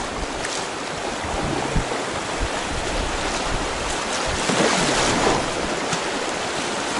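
Water from the Seryozha river rushes and splashes loudly onto a small boat, a continuous close-up wash of spray mixed with wind buffeting the microphone.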